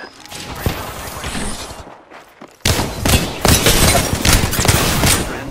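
Sustained gunfire in Apex Legends during a ranked match, dense bursts and rattling shots throughout, briefly dropping out before resuming louder and continuous.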